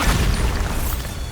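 The Bombarda spell explodes in Hogwarts Legacy, a short, loud booming burst with crackling debris that rumbles briefly.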